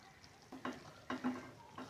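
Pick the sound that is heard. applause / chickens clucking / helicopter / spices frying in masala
spices frying in masala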